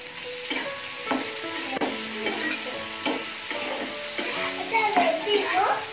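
A spoon stirs chilli pork and tomato sauce in a frying pan, making repeated scraping and clattering strokes over a soft sizzle, with a faint background voice.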